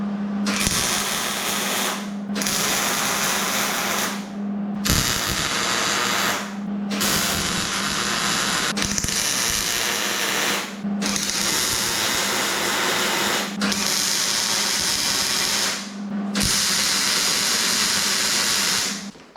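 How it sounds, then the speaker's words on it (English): A MIG welder tack welding a steel flatbed frame at maximum voltage setting, with a loud continuous crackling buzz broken into about eight bursts by short pauses, close up and with no talk. "All right, these are tack welded for the moment."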